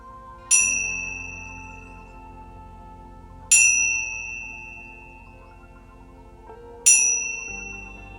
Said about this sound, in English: I'll ring the bell 3 times, just as a gentle wake up if you should drift off.